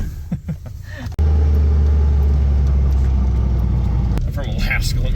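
A work truck's engine drones in a loud, steady low rumble inside the cab while driving, following a brief quieter moment with a voice, then a sudden onset; speech returns near the end over the continuous engine noise.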